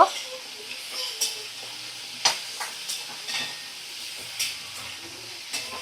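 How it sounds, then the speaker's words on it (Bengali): Ginger paste and spices fry in a little oil on a low flame, giving a soft, even sizzle punctuated by intermittent spatula scrapes and taps against the pan, close and fairly quiet. "দিয়ে একদম লো ফ্লেমে রেখে দিয়ে ভালো করে আমি মশলা কষিয়ে নেব।"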